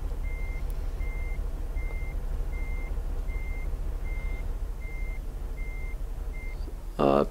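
Reversing beeps from a small truck in the video game Farming Simulator 15: a steady, evenly spaced series of about ten short beeps over a constant low engine drone, ending with a brief louder burst.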